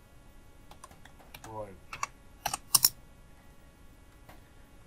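Typing on a computer keyboard: scattered key clicks, mostly light, with a few louder taps toward the middle and a short spoken word in between.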